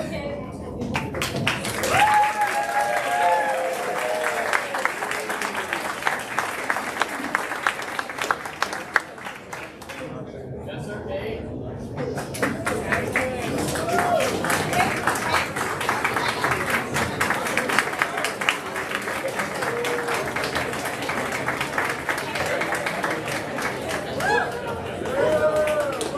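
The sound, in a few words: audience applause at senior awards ceremony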